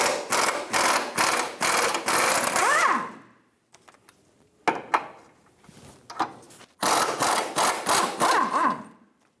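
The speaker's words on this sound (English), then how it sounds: "Using a 14mm socket, remove the 2 bolts out of the support bracket." A 14mm socket on a ratchet works bracket bolts loose on a 2003-2007 Infiniti G35, rapid clicking ratchet bursts in several runs separated by pauses and small clanks.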